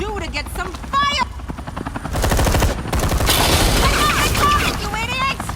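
Police gunfire in Batman: The Enemy Within rattles in rapid volleys beneath a loud helicopter thrum, with shouting voices and chaotic action all around.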